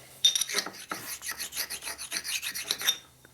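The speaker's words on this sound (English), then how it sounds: "It's a tool honing stone." An oil honing stone is rubbed back and forth across a metal tool part during a 1958 Harley panhead engine rebuild, giving a quiet, close, rhythmic rasping of about a dozen strokes.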